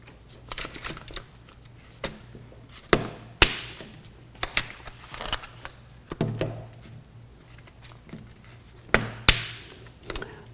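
Plastic scale control insert for an AprilAire humidifier slid into its distribution tray, a run of short clicks, taps and scraping knocks, some sharp and close, spread unevenly across the stretch with no talking.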